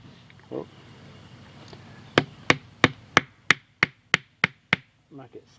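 Rapid, crisp chopping or carving strokes, about ten evenly spaced knocks, sharpen a wooden stake outdoors, with murmured speech before and after.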